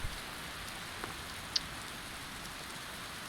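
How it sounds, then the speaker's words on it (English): Rain falling at night in the video game Skyrim, a soft, even hiss of steady rainfall with one brief faint tick and nothing else over it. "Hey, we got some rain finally."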